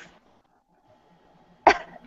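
A single sharp cough breaks a near-silent pause, close and abrupt, with the start of another at the very end.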